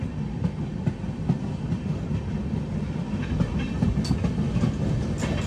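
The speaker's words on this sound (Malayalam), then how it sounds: "അവിടെ ഗ്രീൻ സിഗ്നലാണല്ലോ, അതൊരു ട്രെയിൻ വരുന്നുണ്ട്." A train runs along the line between Mumbai and Solapur, giving a steady low rumble with rhythmic clickety-clack from the wheels that stays constant and fairly loud throughout.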